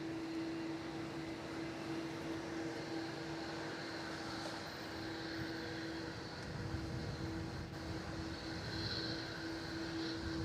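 Air India aircraft departing Melbourne Airport, a steady distant engine drone with a sustained low whine holding evenly throughout, no voices.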